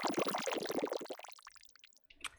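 Synthesized watery bubble sounds made with Ableton Operator: a dense cluster of quick, randomly pitched plinks and blips that thin out into sparse, faint drips, ending in a short isolated burst.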